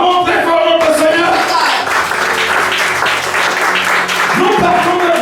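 A church congregation claps and cheers loudly for the Lord, a dense burst of applause with shouts rising over a voice at the start and fading briefly before swelling again near the end.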